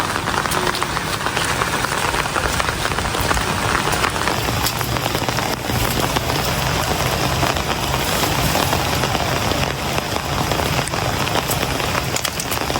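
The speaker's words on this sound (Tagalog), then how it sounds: "Kanina pa pong umaga ay lakas ng ulan." Heavy rain pours steadily on surfaces behind a house in a rural Filipino yard, a dense constant hiss with a faint engine-like hum underneath, no voices.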